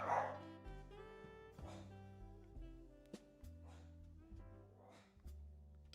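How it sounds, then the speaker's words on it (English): A small yappy dog barking in short bursts at a distance, faint and scattered among steady tonal music. "She's responding to a yappy dog."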